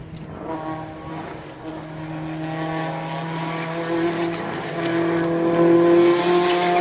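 A race car, a Subaru at the start line of the Cape Town hill climb, revs with a strong harmonic engine note that holds and climbs, growing steadily louder, with no talk.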